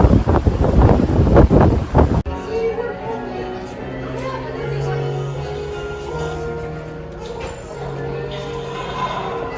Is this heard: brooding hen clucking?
no